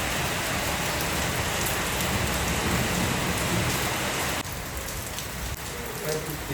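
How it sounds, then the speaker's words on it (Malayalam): Steady rain pours down, a dense continuous hiss of drops on surfaces that stays even throughout, dipping slightly near the end. "ഉണ്ണിച്ചക്കൻ മഴയത്ത് കയറി വരണോ?"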